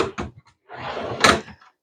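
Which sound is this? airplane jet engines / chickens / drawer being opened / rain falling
drawer being opened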